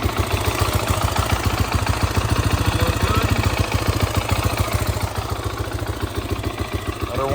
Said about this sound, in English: we've been idling for about 5 minutes now, so I'm gonna shut that off.